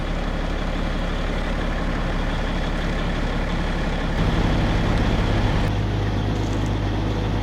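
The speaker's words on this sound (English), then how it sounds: "First thing we do is engage the PTO. Bump up the RPMs using the cruise control." An old truck engine idling high with the PTO engaged, a steady loud low rumble that steps up in pitch and intensity partway through as the RPMs are raised, no voices.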